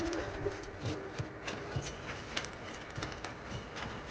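Soft Andhra and Ablook Dobuz pigeon coos repeat low in a noisy, busy space, with faint bird calls and a steady hum behind them.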